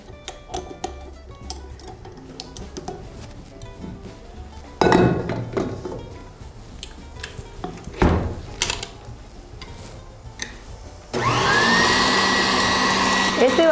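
An electric mixer beating egg whites for a strawberry meringue whirs steadily and loudly near the end, after scattered clinks and kitchen handling noises.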